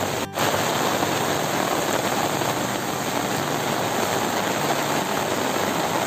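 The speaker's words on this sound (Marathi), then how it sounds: "अतिशय जोरदार पाऊस इथे पडतो आणि वारा पण खूप सुटलाय" Heavy monsoon downpour with wind in rural Konkan, a dense roaring wash of rain hammering surfaces, loud and unbroken throughout with a brief dip near the start.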